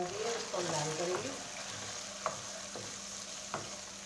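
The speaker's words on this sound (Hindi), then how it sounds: "इसमें हमने प्याज डाल दिया, इसको हम लाल करेंगे।" Onions frying in a pan while an Indian-style chicken and chickpea curry is cooked, a steady broad sizzle running throughout with a few soft stirring clicks; faint voice-like tones appear near the start.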